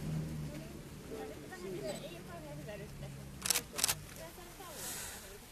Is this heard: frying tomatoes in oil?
no